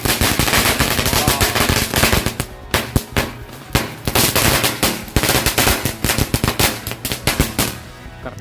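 A long green lightning firecracker string goes off in a loud, rapid crackle of bangs close by. The bursts come in dense runs with brief gaps and carry on across the whole stretch, with no talking.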